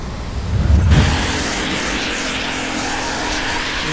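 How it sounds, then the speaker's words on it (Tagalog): Heavy morning car traffic in Nuvali, with one loud vehicle roaring close by, then a steady wash of tyre and engine noise from passing cars. "Sobrang daming sasakyan."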